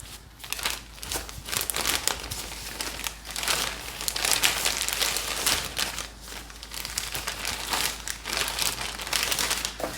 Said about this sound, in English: So I'm going to place this carefully after drying it into a Umai bag.